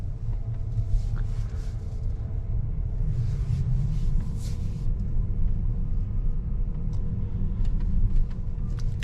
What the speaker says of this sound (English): we will depart this rather huge garage and go on a nice relaxed night point of view drive through my hometown of Zagreb in Croatia